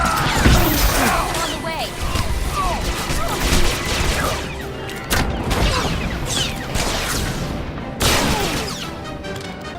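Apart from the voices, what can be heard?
gunfire in a fight, from video game Star Wars: The Old Republic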